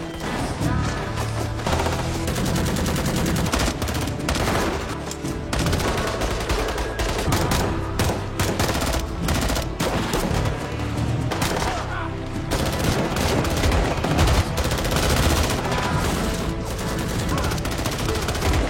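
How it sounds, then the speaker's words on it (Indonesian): Automatic weapons fire in a film battle scene, dense and continuous bursts throughout, loud and layered with other battle noise and scoring. "Baku tembak dengan senjata otomatis dimulai."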